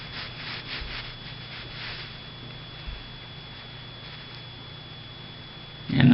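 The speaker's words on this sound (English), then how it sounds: "take the rag and wipe down the outside" A rag is rubbed along the outside of a SIG P226 handgun slide during cleaning, producing soft rhythmic wiping strokes close by, followed by a faint hiss and a short bump at the end.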